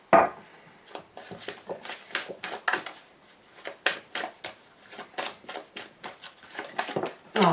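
A deck of tarot cards is cut and handled in a quick run of crisp, papery slaps and flicks, close and clear, with irregular bursts of card contact and no talk over them.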